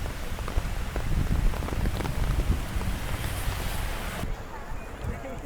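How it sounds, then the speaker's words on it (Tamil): Steady heavy rain falling in Mumbai, a dense continuous patter with a wash of wind and water noise throughout. "இந்தியா கேட்டு வரைக்கும் மழை விடவே இல்லைங்க."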